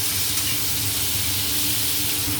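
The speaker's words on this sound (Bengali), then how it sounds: "এবার পেঁয়াজ দিল, তারপরে কাঁচা লঙ্কা। এবার এটাকে একটু ভালো করে ভেজে নিচ্ছে।" Sliced onion and green chillies frying in hot oil with black cumin, giving a loud, dense, continuous sizzle very close up, with no voices.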